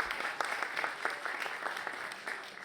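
An audience applauds with brisk, scattered clapping, steady throughout, with no talking over it.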